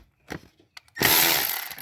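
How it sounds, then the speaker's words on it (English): A power tool with a T30 Torx bit breaks a bolt loose on a Volkswagen EOS 2.0T TSI engine during timing chain tensioner repair: a few light taps, then a loud, steady whirring burst. "this might not have enough torque to break that bolt loose"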